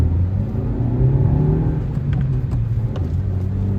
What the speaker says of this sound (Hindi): आपने देखा कितना अच्छे तरीके से ये सीएनजी के अंदर इसने जो है व्हील स्पिन मारा है